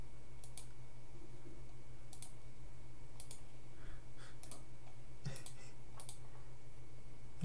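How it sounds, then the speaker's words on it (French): A computer mouse gives quiet, crisp clicks in small clusters, several single and double taps spaced out over a faint steady electrical hum. "tu fais un clic gauche, rien ne se passe"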